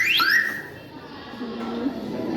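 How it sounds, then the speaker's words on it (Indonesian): A student-built motion-sensor alarm for keeping pests off fields gives a loud electronic sweeping tone that rises in pitch at the start, then fades into a quieter hum with faint voices in the room. "sensor akan mendeteksi pergerakan dan alarm akan berbunyi seperti berikut"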